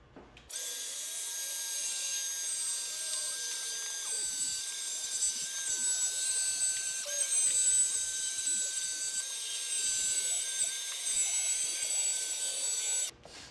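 A Leister Groover 500 LP cordless grooving tool cutting a groove along a linoleum weld seam runs with a steady high motor whine for about thirteen seconds, starting and stopping cleanly, close and moderately loud, with no talk.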